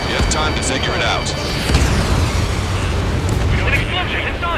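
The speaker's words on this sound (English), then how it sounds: "An explosion inside!" An explosion in the combat flight game Ace Combat 7 rolls out as a loud, sustained roaring rumble with a swell partway through, dense and continuous over the game's background sound.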